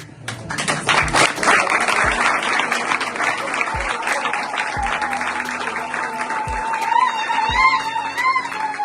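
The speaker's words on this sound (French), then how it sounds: "c'est une manière pour nous de vous applaudir." An audience applauds at a fourth-anniversary celebration of the MUK foundation: dense, sustained clapping from a crowd for several seconds, with a few sharp thumps and some faint voices mixed in.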